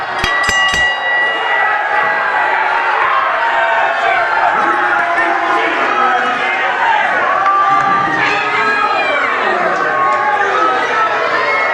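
A large wrestling event crowd roars and cheers continuously, loud and dense, with many voices overlapping and swelling throughout.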